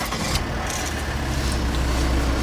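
A Volvo XC60 starts up and settles into a loud, close, steady engine rumble that continues throughout without speech.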